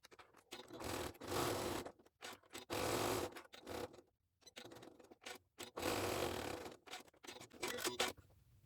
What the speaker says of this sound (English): I'm going to stitch within the seam allowance around the 3 sides of that pocket just to hold it